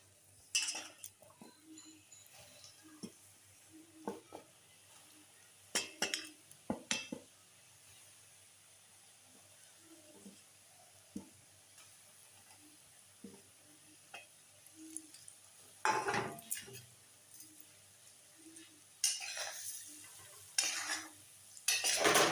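Cornflour-coated potato pieces go into hot oil in a wok, giving bursts of sizzling and clattering between quieter stretches of soft bubbling, with scraping and utensil knocks near the pan.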